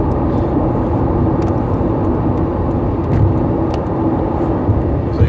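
A car speeding through traffic at about 80 mph, heard from inside as a steady loud roar of road and engine noise with no breaks and no talking.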